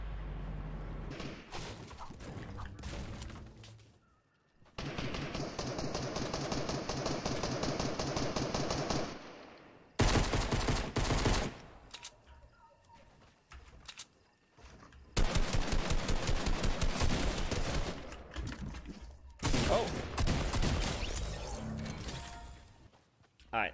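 Fortnite gunfire fights with rapid bursts of shots, thuds and clattering game effects in dense stretches separated by short lulls, with a player talking at times over the action.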